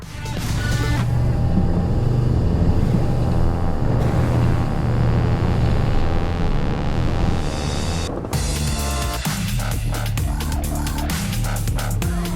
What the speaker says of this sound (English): These 200 horsepower Suzuki engines must have good grit because as the speed increases, you can definitely hear it.